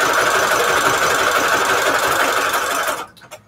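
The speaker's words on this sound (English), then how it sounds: "I don't know if anybody else's sewing machine does that, just pops a thread off the needle." A sewing machine running on cheap thread runs fast and steadily, rattling loudly up close, then stops abruptly near the end with a few small clicks.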